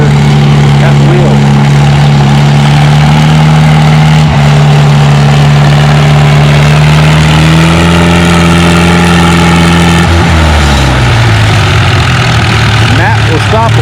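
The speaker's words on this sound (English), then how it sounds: "On the big sled, we got Minneapolis Moline U, Zach Schweitzer at the wheel." A Minneapolis Moline U pulling tractor hooked to the big sled at a tractor pull roars loudly and continuously, its engine holding a steady drone before the pitch drops and shifts near the end, with an announcer speaking over it.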